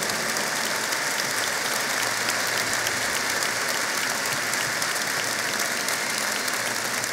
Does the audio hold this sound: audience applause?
yes